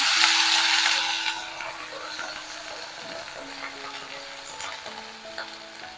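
Dried red chillies, curry leaves and brinjal fry in a pan, a loud hiss at first that settles into a steady, softer sizzle with light crackles.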